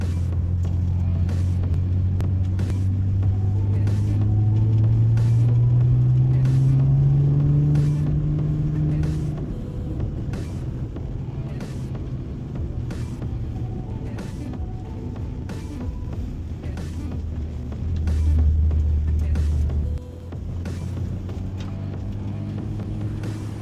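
A Subaru BRZ, rear-wheel drive on studless snow tires, runs along the snowy Tail of the Dragon mountain road, its engine droning steadily with rising and falling revs and a constant low road rumble from inside the cabin.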